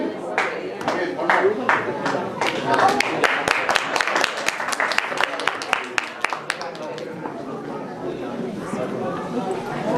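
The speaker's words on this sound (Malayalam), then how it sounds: "നിങ്ങളുടെ കൈയടിക്ക് നന്ദി പറയുന്നു" An audience claps after a stage performance at a one-day community event, a lively round of applause that thins out while a voice talks over it near the end.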